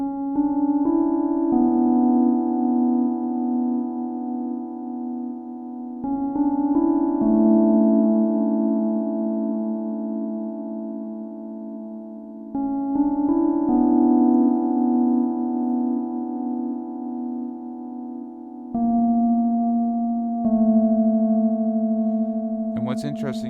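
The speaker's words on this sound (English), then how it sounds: "a nice melody using the pulse keys preset on the OP1 field" Synth melody from the pulse keys preset on an OP-1 Field, slow sustained harmonic notes changing every few seconds with soft reverb tails, played alone.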